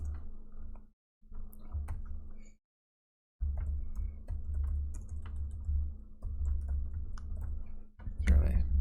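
Steady clicking of keys on a computer keyboard during a coding session, with close, continuous taps broken by two short pauses.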